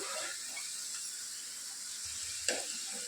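Potatoes frying in oil until browned, a steady soft sizzle throughout with a brief clatter of stirring near the end.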